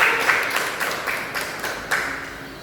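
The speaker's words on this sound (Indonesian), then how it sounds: "Kasih tepuk tangan ya, teman-teman" Classmates in a school lesson applaud a correct answer with a brisk round of clapping from a small group, fairly close and steady, with a few sharper claps standing out and no talking over it.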